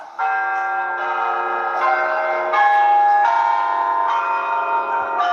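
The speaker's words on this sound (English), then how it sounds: "The church bells." Church bells ring out in a steady sequence of overlapping, resonant strikes, loud and sustained with no voices.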